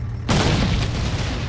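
A high-explosive mortar round fires in the Foxhole war game, a single loud, sudden boom that rolls into a long, dense rumble lasting over a second, close and with no voices.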